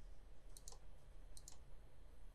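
Computer mouse clicks while tracing pattern segments in patternmaking software, two quick pairs of faint sharp clicks over a low steady room hum.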